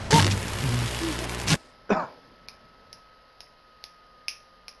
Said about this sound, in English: How dare you cough in my presence?